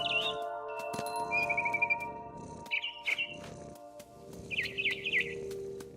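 A mother bird chirps in the video game What Remains of Edith Finch: short high bursts of tweeting and trills, moderately loud, spaced across a quiet game ambience with faint low rumbles.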